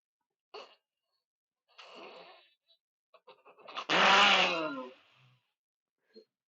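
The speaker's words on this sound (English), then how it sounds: "Sorry, I had to sneeze." A single loud sneeze, preceded by a few sharp breaths and short vocal sounds, close to the listener.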